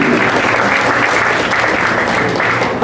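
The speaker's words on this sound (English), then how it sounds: "A round of applause if you have heard of West Side Story, Sound of Music, and My Fair Lady." Audience at a Broadway golden-era concert by a community singers group breaks into dense, steady applause, loud and sustained throughout without pause.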